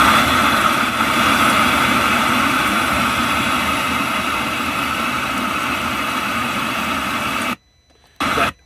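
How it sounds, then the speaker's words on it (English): Steady rain hisses broadly and continuously at night around a house, a dense even wash that cuts off abruptly near the end and then briefly returns. "That noise is rain."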